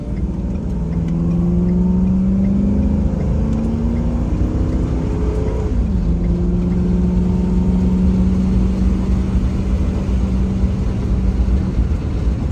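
Steady road noise and engine hum from inside a moving car, with a low pulsing whoop-whoop from the slightly cupped front tires under the drone.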